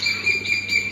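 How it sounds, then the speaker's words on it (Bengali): Birds call on a rooftop in a rural Chandpur setting, giving a thin, continuous high chirping that sounds fairly close, with a faint insect-like trill and no talk. "পাখিগুলা ডাকতেছে কত সুন্দর করে।"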